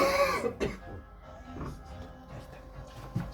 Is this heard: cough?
yes